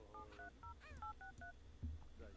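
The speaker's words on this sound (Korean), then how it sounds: "전화해서 서비스 불러" Telephone keypad dialing tones in The Sims 3 game, a quick run of distinct electronic beeps followed by a short burst of further tones, clear and alone with light game ambience underneath.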